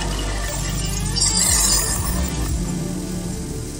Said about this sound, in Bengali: বন্ধুরা এর মধ্যে জল অ্যাড করে দেবো।